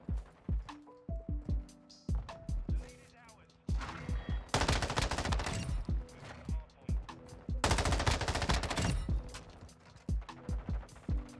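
M13B assault rifle firing in Modern Warfare 2 on the Shoot House map, with short bursts followed by two long sustained automatic volleys, loud and punchy amid in-game effects.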